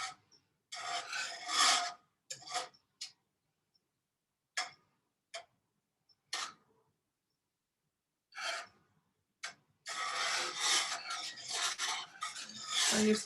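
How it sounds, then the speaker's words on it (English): Butter and cream cheese being whisked together in a pan for Alfredo sauce, heard as repeated bursts of close scraping and rasping strokes separated by brief pauses, growing into a steady run of whisking near the end. "So you just keep whisking it."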